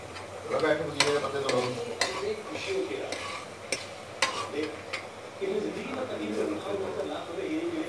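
Fenugreek seeds sizzle in hot oil in a pan for kadhi, a steady crackling fry punctuated by sharp clinks of a spoon against the pan, with a voice speaking at times.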